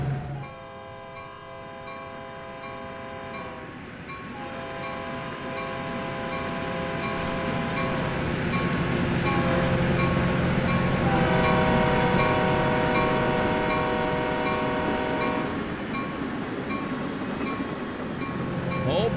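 Diesel locomotives in the Train Sim World 2020 game rumble steadily with a droning, tonal engine hum that slowly swells and eases, loud and continuous throughout.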